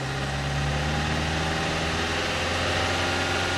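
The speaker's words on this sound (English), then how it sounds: "Rev it up." A car engine idles and revs in a home garage, a steady, dense rumble held throughout with a slight rise in pitch, close and continuous.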